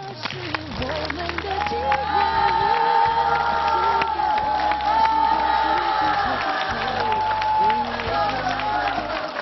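A television studio audience in Beijing applauds and cheers as a guest is welcomed onstage, loud sustained clapping and shouts with a voice speaking over it throughout.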